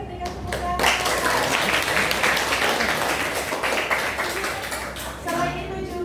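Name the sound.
applause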